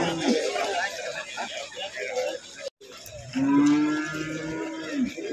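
Bulls and cattle at a Pacu Jawi race held in a muddy rice field in West Sumatra, mooing and lowing loudly and repeatedly amid crowd chatter, with an announcer speaking over the noise.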